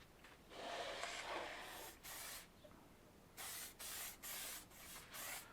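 Lacquer sealant sprayed from a can onto a wheel rim: one long hiss followed by a run of short, even bursts, close and fairly loud, with no talking.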